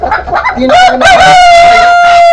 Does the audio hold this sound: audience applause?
no